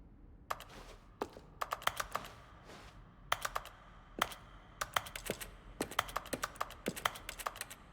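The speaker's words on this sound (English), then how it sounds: "Each sound is a mix of a keyboard stroke and a synthesized tone." Button presses from The Stanley Parable video game, each a keyboard stroke blended with a synthesized tone, tapping in irregular quick bursts, close and crisp with no talk.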